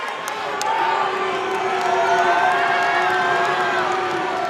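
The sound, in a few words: crowd cheering at a basketball game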